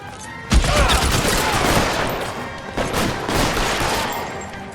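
Heavy gunfire in the L.A. Noire video game rattles continuously for several seconds, a dense loud fusillade of overlapping shots and impacts with sharp bursts near the start and middle.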